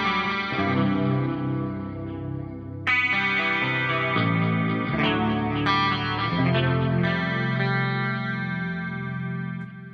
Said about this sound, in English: here's this guitar through the clean channel of the amp.